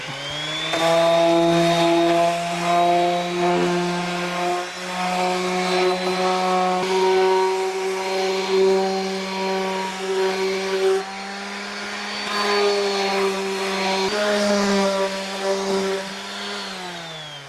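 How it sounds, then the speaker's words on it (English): A random orbit sander runs along the edge of a wooden drawer, producing a loud, continuous motor whine with a buzzing tone that shifts slightly in pitch as the pressure on the sander changes. "We just use a random orbit to hit the edge."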